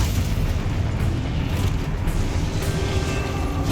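A Confringo spell explosion in the video game Hogwarts Legacy, a loud, dense rumbling boom that fills the whole few seconds without letting up, with no talking over it.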